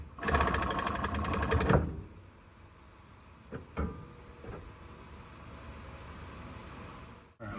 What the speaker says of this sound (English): I'm going to hit it a couple times with an impact and see if it'll pop loose